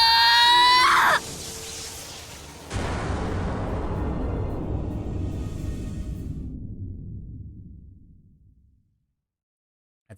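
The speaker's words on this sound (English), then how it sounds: "the sound of Tohka's screams rang in my ear" A loud scream from Tohka, a character in the video game Date A Live Rio Reincarnation, opens the scene at high pitch, breaks off, and gives way to a roaring blast that slowly fades out.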